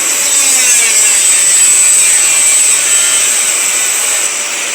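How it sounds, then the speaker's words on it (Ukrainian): A loud, steady high-pitched whine of an angle grinder with a 76 mm cutting disc grinding continuously through material, close by, with no voices. "ця болгарочка китайська за 1000 гривень, вона не потягнула, зупинилася"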